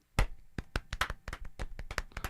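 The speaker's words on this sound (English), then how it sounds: "Ready and golf clap." A small group does a deliberately polite golf clap, a loose scatter of light, separate hand claps, close and fairly quiet, with no talking over it.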